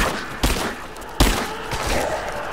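Gunfire in the video game Rise of the Tomb Raider: two sharp, loud shot bursts roughly a second apart, with a rumbling reverberant tail after each and a dense background of game sound between them.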